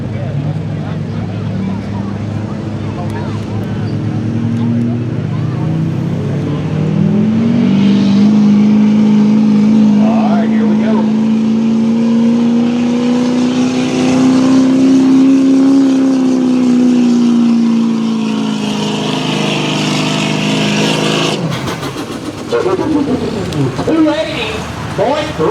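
A 2005 Chevrolet diesel 4x4 truck pulls a sled in a Run Whatcha Brung diesel class at Fishersville, Virginia, its engine droning loud and close, climbing steadily in pitch over about fifteen seconds before cutting off, with an announcer's voice over it.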